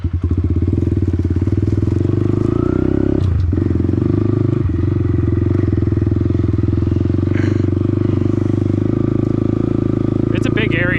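A small pit bike engine runs steadily nearby, a loud buzzing idle with a constant low pulse, broken by a couple of brief clanks and clicks, with faint higher whines toward the end.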